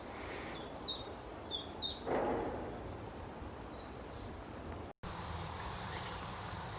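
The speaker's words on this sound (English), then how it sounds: "chiff-chaff singing, a bird that's come all the way from sub-Saharan Africa to breed here in a Glasgow park" A chiff-chaff singing in a Glasgow park, a short series of repeated bright two-note chirps heard fairly close, followed by quieter background ambience of the park.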